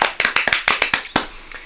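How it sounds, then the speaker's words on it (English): About ten sharp hand claps from a single person, close and fairly loud, with a steady but slightly uneven rhythm, after which the sound fades out. "I'll give you a clap."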